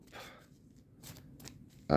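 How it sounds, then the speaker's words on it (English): A deck of cards shuffled by hand, producing soft riffling and shuffling bursts in short spurts close to the microphone, followed by a brief clack. "Let's just give these a shuffle about."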